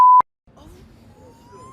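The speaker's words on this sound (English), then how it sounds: "I'm gonna have to beep that out" A single loud, steady censor beep of about a fifth of a second sits at the very start, cutting off a swear word, followed by a pause and then quieter talk.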